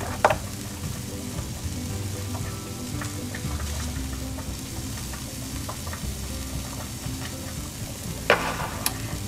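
Steady crackling sizzle of a seasoned beef roast searing in a pot, close up, with occasional sharper pops and clinks throughout.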